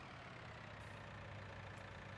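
A combine harvester engine idles in Farming Simulator 19, a steady, even drone with a low rumble, alone and unchanging throughout.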